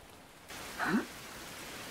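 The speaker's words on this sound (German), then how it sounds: "Ey, es regnet." Rain falling in the survival video game Survival: Fountain of Youth: a steady soft hiss of rainfall that begins partway through and holds evenly, with a brief louder swell near the middle.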